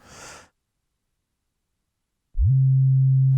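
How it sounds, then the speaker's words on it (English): A short breathy noise burst, then silence, followed by a steady low humming timecode tone from a phase controller that starts abruptly and holds. "The phase controller is able to send a variety of timecode signals"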